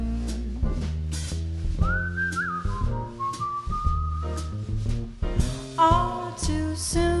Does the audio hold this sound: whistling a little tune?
yes